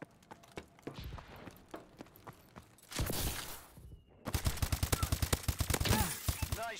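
Gunfire in a Call of Duty first-person shooter, scattered shots early, a burst of heavier fire, then rapid repeated automatic bursts toward the end, fairly loud and alone.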